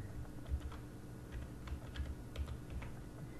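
HTML code typed on a computer keyboard, a quiet run of quick irregular key clicks with a few heavier thumps, close and alone.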